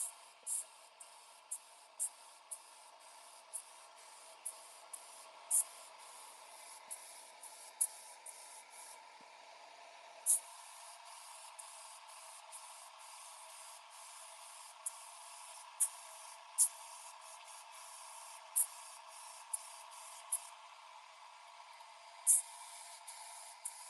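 A spray gun lays down pearl white paint as a steady, faint hiss over about twenty-four seconds, broken by small ticks and clicks.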